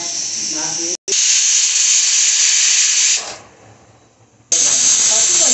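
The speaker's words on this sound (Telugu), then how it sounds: "చాలా తక్కువ వాటర్ వేసుకొని 2 విజిల్స్ వచ్చే వరకు ఉంచండి" A pressure cooker holding small bottle gourd pieces with salt, turmeric and very little water lets out a loud, steady hiss of escaping steam, cuts off for a moment, fades low, then bursts back at full force.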